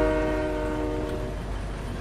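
A train in a video game rumbles steadily and loudly throughout, with a sustained multi-tone horn blaring over the rolling rail noise and no talk.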